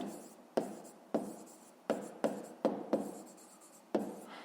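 A pen writes by hand on paper while a math exercise is worked out, making a series of quiet scratching strokes with sharp onsets that trail off, about eight in a loose irregular rhythm, close and alone.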